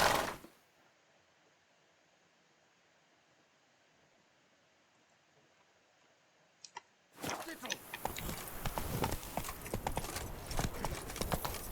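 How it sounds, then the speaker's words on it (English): Horse hooves clip-clop in The Witcher video game, entering abruptly after a quiet stretch as a dense, busy clatter of steps with game ambience, loud and close. "Not so fast, Roach. Whoa there, sir."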